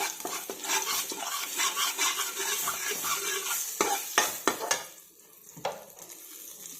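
Boiled lentils tipped into a hot pan with turmeric hiss and sizzle while a metal spoon scrapes and clatters in repeated stirring strokes, close and fairly loud, easing to a softer simmer toward the end.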